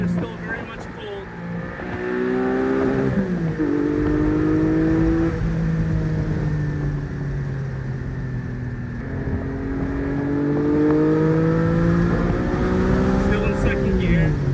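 A Porsche 718 Spyder driven top down accelerating in second gear, engine tone climbing through two long pulls with a dip between, loud and close, with a voice speaking over it.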